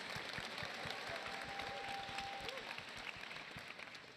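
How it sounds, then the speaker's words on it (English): An audience claps for the panel at a Star Wars Celebration 2025 Japan game presentation. The applause is faint and distant, with a thin whistle and crowd murmur mixed in, and stays at an even level throughout. "A round of applause."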